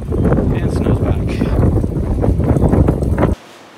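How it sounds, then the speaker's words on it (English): Strong wind buffets the microphone outdoors on a snowy day, a continuous rough gusting roar that cuts off abruptly near the end. "Wow, it's windy."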